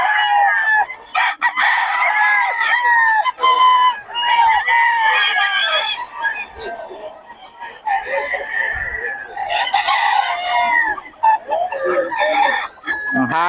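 Young gamecock stags crow and cluck at a gathering of birds in Bocaue, with overlapping crows and clucks from several birds close by and voices in the background.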